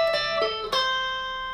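Electric guitar picking an intro riff, a short run of bright plucked notes with ringing sustain that fades out, played solo with no voices.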